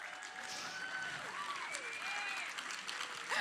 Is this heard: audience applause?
yes